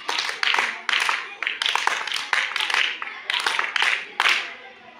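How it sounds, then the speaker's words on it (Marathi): Children clap together in congratulation after a bottle-pickup concentration game, sharp bursts of group clapping repeating in quick clusters, fairly close and loud. "एकदा 3 टाळ्या वाजून"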